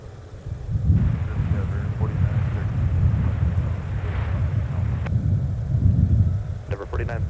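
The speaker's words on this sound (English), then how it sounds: "I have never seen the XLR land on 30 left." Airbus A321XLR airliner landing on runway 30 left at Minneapolis–Saint Paul airport, a broad steady jet roar that swells and holds with low rumble, loud and continuous, with a voice appearing briefly near the end.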